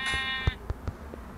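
A sheep in the video game Minecraft bleats once, a short wavering game-sound cry, followed by a few soft thuds from in-game movement.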